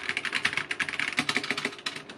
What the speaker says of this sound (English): Very clicky switches, which I do really like